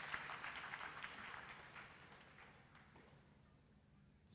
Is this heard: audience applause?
yes